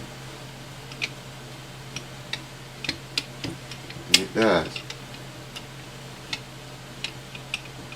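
A metal straight edge rocking on a Fender Stratocaster neck during truss rod repair, making sparse, faint ticks and clicks. Someone speaks briefly partway through.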